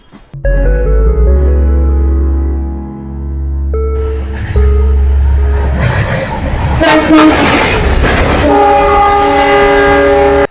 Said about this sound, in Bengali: এটা ট্রেন না, আর এটা হলো ইঞ্জিন